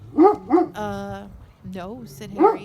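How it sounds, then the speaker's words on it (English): A dog barks close by, about four sharp barks with a whine in between, while a man reading aloud briefly speaks over it. "That's our dog. He's just barking at maybe a cat nearby."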